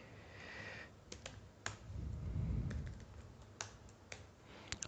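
Fingers type HTML code on a computer keyboard, with a scattered run of crisp close key clicks, some in quick bursts, over soft room noise and a brief low rumble midway.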